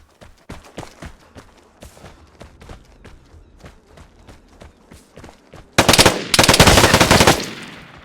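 Gunfire in the online shooter Vigor: a run of sharp shots and footstep-like clicks, then a loud, dense burst of automatic fire near the end, all without speech.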